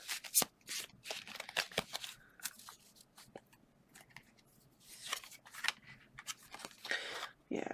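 Tarot cards from a kawaii-style deck being handled and drawn, with repeated sharp flicks, slides and snaps of card stock in irregular bursts, close and fairly quiet, no talking.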